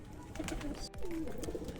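Pigeons coo at a pigeon sale, soft low throaty calls recurring through a busy background hum, fairly quiet and close.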